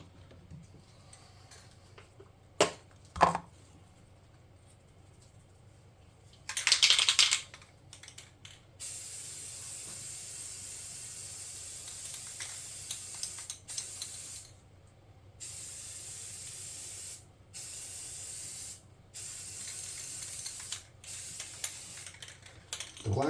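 Spray can applying black base coat and then red primer to a model tabletop walkway, with a brief can rattle followed by several long, loud hissing bursts separated by short pauses, close to the listener.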